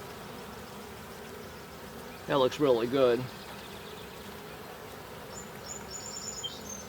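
Honeybees hum steadily around an opened hive, a split that was given a queen cell, with a faint continuous buzz behind a brief spoken remark.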